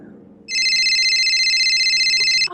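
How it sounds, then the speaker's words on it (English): A telephone rings in a loud, steady, trilling electronic bell burst lasting about two seconds, close and alone, then cuts off. "Why does my phone keep going off?"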